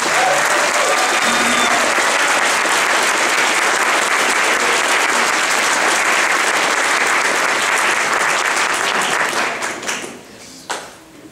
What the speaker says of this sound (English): So I think we should all applaud Beth